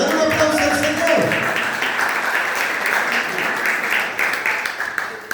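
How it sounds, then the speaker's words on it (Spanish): A church congregation claps together, a dense burst of applause that starts loud and slowly thins out, with a brief voice at the start. "Dale un aplauso al Señor."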